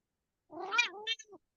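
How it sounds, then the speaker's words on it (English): A cat gives a single short meow that rises and falls, then adds a brief squeak. The sound is close and quiet against a silent background. "You hear that, cat?"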